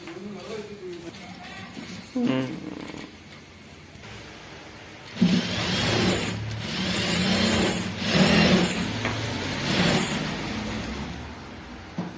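A sewing machine stitching around the edge of a uniform coat, bursts of fast mechanical whirring that start and stop, with a voice talking at times between runs.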